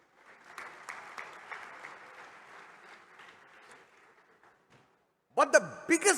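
Audience applause at an accountants' world congress closing ceremony, a moderate ongoing clatter of clapping that fades out over several seconds, followed by someone speaking into a microphone.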